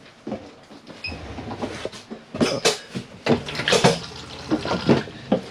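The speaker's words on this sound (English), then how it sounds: "So if you flush it and put a small amount of water in first" Water splashes and gurgles in bursts as an Auto Trail Expedition C63 motorhome cassette toilet flushes, with hollow plastic knocks and clunks mixed in, close by and fairly loud.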